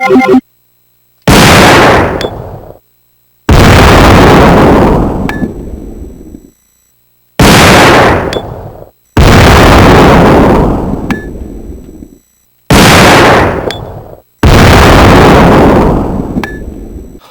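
Remington M1100 full-size semi-automatic shotgun firing in Resident Evil 2, six heavy, loud blasts spaced a second or two apart, each booming report ringing out with a long decaying tail before silence.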